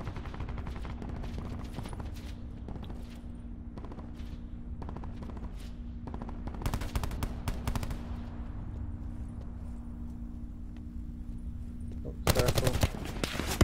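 Gunfire in a shooter video game: quiet bursts of rapid shots and scattered single cracks over a low engine-like hum, ending in a louder close volley.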